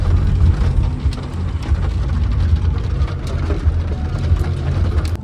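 Steady rain falls in the forested Darjeeling hills, a dense continuous hiss with a low engine rumble running underneath throughout.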